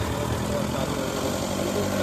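A motorcycle engine idles nearby with a steady, low mechanical rumble that holds unchanged and is not mixed with talk.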